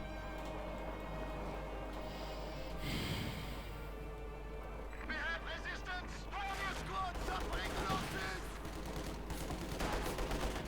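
Gunfire in the real-time strategy game Company of Heroes 2, with a Panzer IV and Guards infantry fighting, sounds as scattered bursts and rattling shots under steady battle noise, with a commentator talking throughout.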